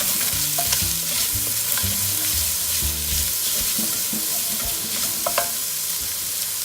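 Onion and garlic fry in virgin olive oil for a chicken and wild mushroom risotto, a steady close sizzle running throughout with scraping stirs and a few sharp clinks of a utensil against the pan, no voices.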